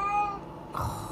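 A domestic cat meows near the start, a thin held tone, then a second short meow follows over a low room background.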